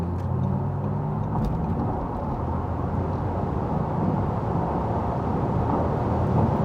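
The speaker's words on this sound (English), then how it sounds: "So we start at 90 kilometers an hour, so like 50 miles an hour, and then accelerate it out." Audi RS e-tron GT electric car accelerating from about 90 km/h, a steady, dense road and wind roar from inside the cabin, holding level without any voices.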